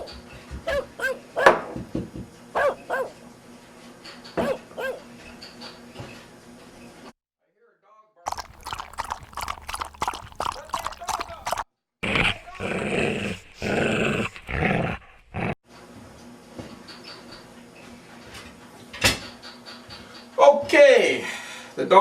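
A dog barks, growls and whimpers in repeated close bursts in a home kitchen, with a person talking between and over the outbursts.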